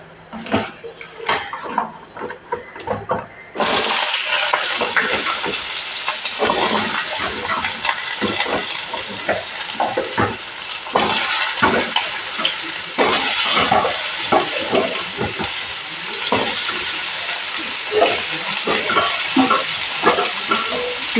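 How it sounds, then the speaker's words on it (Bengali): Potatoes fry in hot oil in a kadai (wok): a short stretch of clatter gives way to a loud, steady, close sizzle, with repeated scraping and stirring clinks throughout and no talking. "আলুগুলো ভাজা হচ্ছে লাল লাল করে ভেজে নেব"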